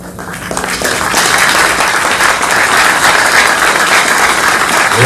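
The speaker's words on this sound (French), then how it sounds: "je vous invite à vous lever pour applaudir vos parents" Loud applause from a large crowd of standing students at a school ceremony, building quickly in the first second and holding steady and dense throughout.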